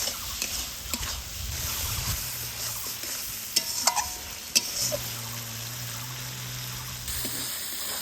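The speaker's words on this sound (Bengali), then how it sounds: "এবার সব মশলাগুলোকে ভালোভাবে কষিয়ে নিব।" Ground chilli, cumin and turmeric with a little water stir-fried in a pan, a steady sizzle broken by scraping and a few metallic clinks of the spatula, alone without speech.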